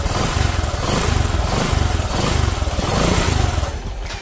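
A Bajaj Boxer CT150 motorcycle engine revs steadily and loudly up close, a continuous chugging drone that swells and eases slightly over a few seconds, heard alone without talk.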